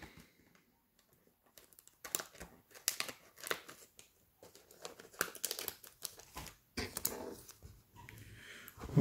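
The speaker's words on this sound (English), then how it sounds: "plastic bag, cut a square out of it." Scissors snip a square out of a crinkly plastic bag for fly tying in a series of short, uneven cuts, with rustling and crackling between snips, fairly close and moderately loud.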